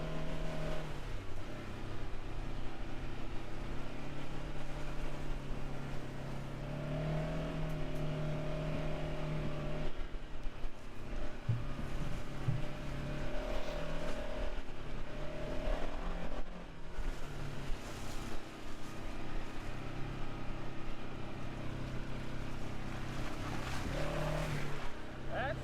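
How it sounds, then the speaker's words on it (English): A Segway Fugleman UTV lugs up a hill in low gear with four-wheel drive engaged, its engine droning at a steady low pitch throughout with little change in throttle. "Low gear, 4-wheel drive, it just lugs itself up the hill."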